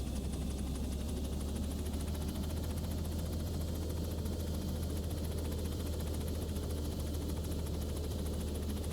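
The turbine engine of a Robinson R66 helicopter in the X-Plane 11 flight simulator runs steadily as the throttle is rolled to full, giving a constant loud whine and rotor drone with no talking.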